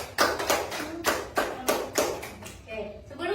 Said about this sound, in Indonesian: mari kita beri tepukan dulu kepada kelompok 2